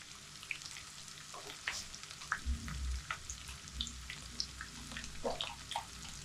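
Hot oil in a pan sizzles softly as cumin seeds go in, a faint crackling hiss broken by light pops and scraping stirs, close by and with no speech.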